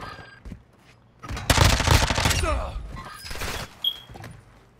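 Bursts of rapid gunfire in Call of Duty Warzone 2.0, loud and dense through the middle with scattered shots before and after, partly under a player's voice.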